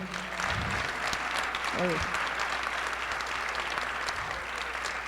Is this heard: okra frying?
no